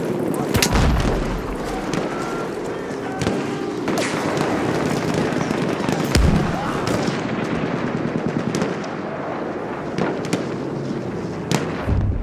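A grenade goes off during battle in the video game Battlefield 1, one of several sharp booms amid rapid gunfire bursts and loud continuous combat noise, with shouting voices mixed in.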